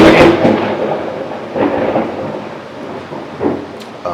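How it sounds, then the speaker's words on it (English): Thunder rumbles during a storm outside, several deep rolling booms swelling and fading over steady rain, loud and fairly close, with no voices. "there's a storm outside"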